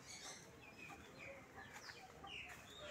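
Free-range chickens cluck and a rooster calls faintly in the background of a busy outdoor farmyard in Itapipoca, Ceará, Brazil, with steady ambient noise.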